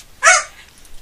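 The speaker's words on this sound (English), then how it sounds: "Dogs barking in the background" A single short dog bark sounds once at moderate distance in a quiet room, brief and sharp.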